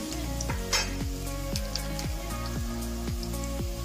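Onions frying in a pan with oil until golden brown for mutton kheema pulao: a steady close sizzle under repeated metallic scraping and stirring strokes, with no one talking.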